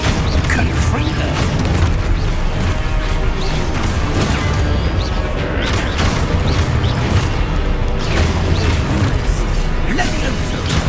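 Confringo spell blasts in Hogwarts Legacy gameplay, dense booming crashes and bursts piling over loud game noise, with voices calling out through the din.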